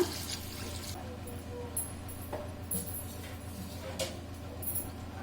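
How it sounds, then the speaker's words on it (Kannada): Water is poured into a pot of chicken biryani, a steady close trickle and splash under a low background hum, with a few faint clinks and no talking. "ಈಗ 4 ಟಂಬ್ಲರ್ ಅಷ್ಟು ನೀರು ಸೇರಿಸ್ಕೊಳ್ಳೋಣ."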